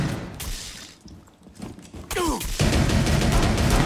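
Rapid bursts of gunfire in Rainbow Six Siege crackle in a loud, dense stretch after a quieter lull with a whooshing effect.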